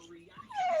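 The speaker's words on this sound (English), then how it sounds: "oh the dogs!" Dogs let out a brief whimper that rises into a high, sliding yip, close by and fairly loud, with a little human vocal sound mixed in.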